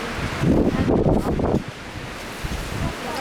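Wind gusting outdoors on a trip to Phu Ruea, a loud rough rumble with strong microphone buffeting in the first second and a half, then easing to a steadier, softer blustery noise.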